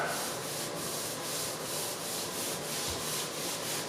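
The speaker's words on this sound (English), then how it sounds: "You just kind of want to let the sponge slightly skim across the top, just kind of smooth things out and wipe things out somewhat." A damp sponge skims over tile grout in steady, continuous rubbing strokes, close and moderately loud, with a soft rhythmic swish and no voices.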